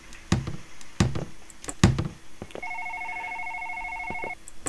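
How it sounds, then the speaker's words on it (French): A telephone rings in the horror video game One Late Night: a sustained electronic ring lasting nearly two seconds, preceded by three heavy, evenly spaced knocks or thuds in a quiet room. "Le téléphone qui sonne."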